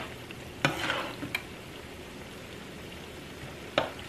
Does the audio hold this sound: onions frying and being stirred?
yes